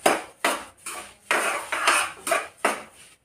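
Sesame seeds being dry-roasted in a pan are stirred in about seven regular, rhythmic scraping strokes, each a close, bright rasp separated by short pauses.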